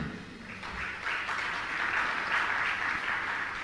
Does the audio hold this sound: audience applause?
yes